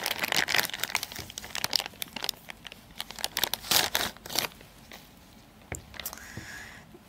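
Blue anti-rust plastic bag wrapped around a brand-new China-made fuel injector for a Cummins diesel in a Dodge Ram crinkles up close in quick irregular bursts, with a brief pause and a few softer rustles at the end.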